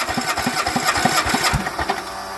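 A Kohler Command small engine being cranked and briefly firing, with a rapid, rhythmic chugging of pulses for a couple of seconds that stays close and moderately loud.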